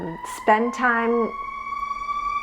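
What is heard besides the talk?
siren in the background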